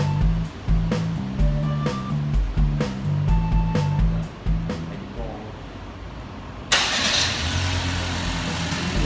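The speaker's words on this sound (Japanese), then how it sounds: "アイドルストップ5の再始動の電気を強制的に流してやる。" Daihatsu engine cranking and restarting during an idle-stop active test, rhythmic starter chugging with clicks, then a louder rush as the engine catches and settles into a rough idle, close by.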